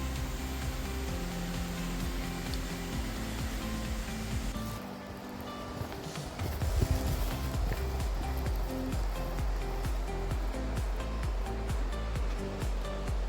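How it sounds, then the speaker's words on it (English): Punglier Falls in Meghalaya roars as a steady broadband wash of falling water, loud and continuous, growing heavier partway through. "finally guys, we reached Punglier Falls. Such a beauty."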